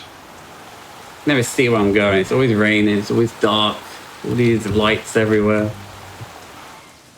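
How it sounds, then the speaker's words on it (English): Steady rain in a dark, rain-soaked Hong Kong in Sleeping Dogs: a constant soft hiss of rainfall underneath a voice talking in the foreground. "It's always raining."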